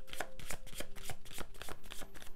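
Tarot cards are shuffled close up in a steady run of quick riffling flutters that repeat at a fast, even rhythm.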